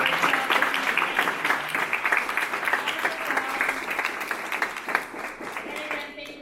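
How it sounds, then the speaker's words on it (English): An audience applauds the student team at a summer 2023 demo day, a lively, dense clapping that gradually thins out over six seconds, with voices mixed in. "let's do a big round of applause for the team"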